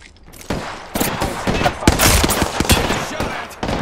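Rapid bursts of automatic gunfire in Apex Legends, loud close volleys and scattered single shots crackling across a few seconds with a faint voice underneath.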